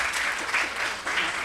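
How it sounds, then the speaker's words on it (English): Audience applause at a stage event where Buddhist and Brahmin speakers share the platform, a steady wash of many hands clapping with slight surges, moderately loud and uninterrupted, without talk. "So let us all clap once again and applaud."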